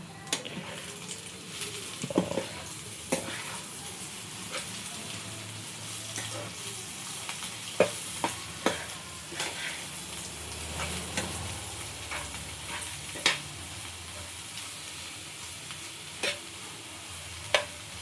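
Egg bhurji, Hyderabadi street-food style, fries in a pan while being stirred: a soft continuous sizzle broken by repeated sharp scrapes and taps of the spatula, close but moderately quiet.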